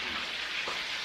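Short burst of stir-frying in a small wok, a steady broadband sizzle with a brief scrape of stirring midway, close and continuous with no talking.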